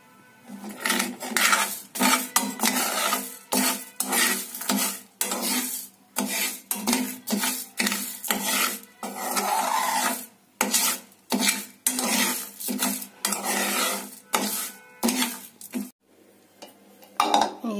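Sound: dry-roasting ubtan ingredients in a pan

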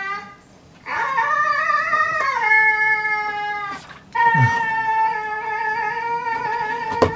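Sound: husky dog howling

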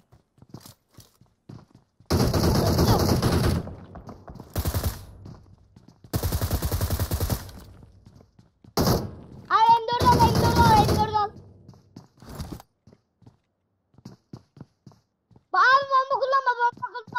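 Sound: gunfire in the video game PUBG Mobile

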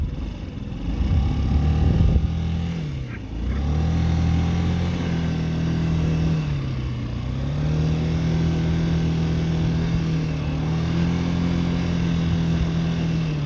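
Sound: scooter engine running

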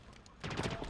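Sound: gunfire in the video game Halo Infinite

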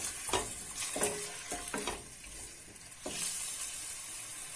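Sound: sautéing vegetables and chicken breast in a pot

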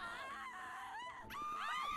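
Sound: zombies screaming in GTA 5 video game

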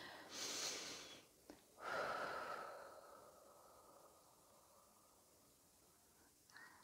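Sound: slow deep exhale through the mouth

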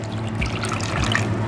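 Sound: water being poured into cornflour

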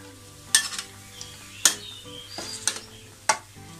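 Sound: stir-frying bean sprouts with tofu and minced pork

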